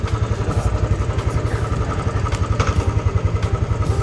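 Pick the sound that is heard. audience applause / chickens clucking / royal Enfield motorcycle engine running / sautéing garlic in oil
royal Enfield motorcycle engine running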